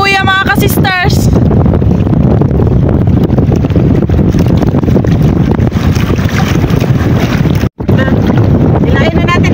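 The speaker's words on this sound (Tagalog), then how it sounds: "Malakas yung hangin, kaya minsan lang tayo magsalita kasi narinig." Strong wind roars into the microphone on a small fishing boat at sea, a loud, continuous buffeting rush that fills the scene with only a brief dropout.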